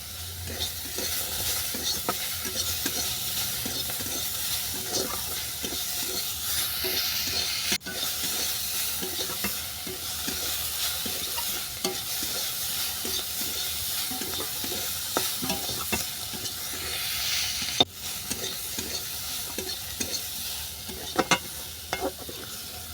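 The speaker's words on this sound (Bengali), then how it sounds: "গাব বাতাটা নেড়ে চেড়ে কিছুটা ভেজে নেওয়ার পর দিয়ে দিলাম কুচানো টমেটো।" Gab leaves and chopped tomato fried in a pan with steady sizzling, while a spatula scrapes and stirs in irregular clicks and scrapes, close and continuous with no talk.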